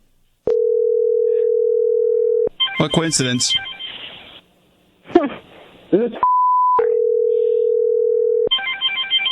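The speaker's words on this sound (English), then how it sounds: "What is that ringing in the background then? It's a phone." A telephone line gives a steady ringback tone in long, even pulses with silent gaps, heard alongside an ongoing call; a brief higher beep sits between rings, and people talk in the pauses.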